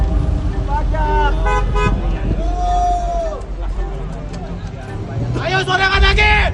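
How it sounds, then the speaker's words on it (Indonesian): Car horns from passing vehicles honk in protest at a street demonstration, with several toots of varying length rising above a loud crowd hubbub and traffic noise, and a dense burst of honking near the end. "Unjuk rasa juga diikuti dengan pembunyian klakson kendaraan yang lewat sebagai bentuk protes para pengendara terhadap kebijakan pemerintah"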